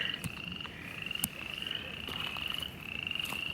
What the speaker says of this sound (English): Hear the frogs?